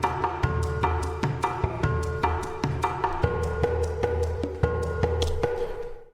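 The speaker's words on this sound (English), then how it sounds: "I added some more percussion, stone slates and log drums together with what we previously recorded" Stone slates and log drums strike in a steady, repeated percussive rhythm, layered over sustained orchestral tones, clear and moderately loud with no voices.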